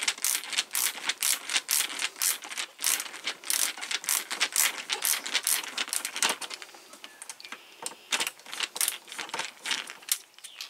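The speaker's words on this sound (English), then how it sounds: "Basically, take out a couple of screws on this." Screws backed out of a trike's front cowling with a ratcheting tool, a close, rapid run of crisp clicks and metallic rattles in uneven bursts, with no talking.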